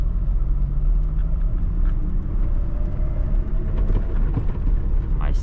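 A VW Gol G3 runs with its engine rumbling steadily and gears shifting, a loud continuous drone with faint clicks toward the end and no talking.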